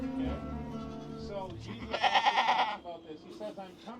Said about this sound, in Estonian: Siin on kitse isa, kitse ema, kes hüüab praegu oma poegi